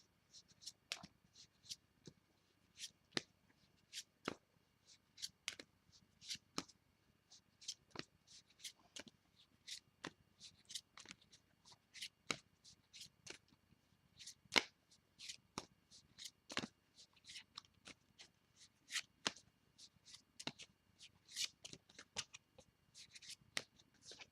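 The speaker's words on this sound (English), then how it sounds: "We draw an outcome card." Tarot cards being shuffled and drawn by hand, a long run of quick, soft, crisp flicks and riffles in an irregular rhythm, close and fairly quiet, with no talking.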